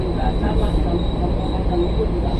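KRL commuter electric train pulling into Pasar Minggu station on track 2, a steady close rumble of wheels on rails inside the carriage with a high squeal and a thin constant whine, voices faintly underneath.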